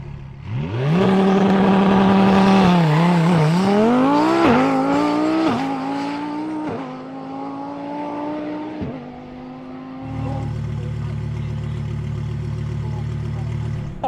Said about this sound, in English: Runways are normally boring on a motorbike, they are not boring on this